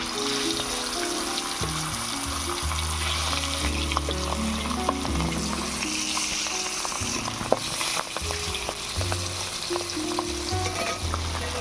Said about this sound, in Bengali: তেল গরম হয়ে গিয়েছে এবারে মাছগুলো ভেজে নেব